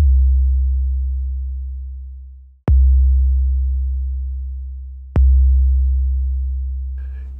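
Three deep 808 bass notes made in Logic Pro X, with adjusted shape, hit in sequence, each with a punchy click at the start and a long, gradually fading boom.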